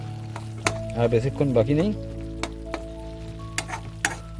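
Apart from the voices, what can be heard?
spices sizzling while being fried for a fish curry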